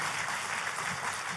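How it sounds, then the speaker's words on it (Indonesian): A church congregation claps together in a dense, steady wash of applause that fills the room at moderate loudness for a brief stretch, with no voices. "Kita kasih tepuk tangan yang paling meriah buat Tuhan."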